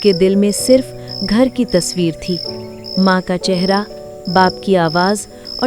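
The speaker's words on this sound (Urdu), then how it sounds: "راستے میں درختوں کی سرسراہٹ، جھنڈ میں جھینگروں کی آوازیں" A steady high cricket chirp at night along a wooded path runs continuously beneath someone narrating in the foreground.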